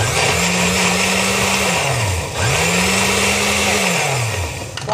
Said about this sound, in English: I'm going to blend this up.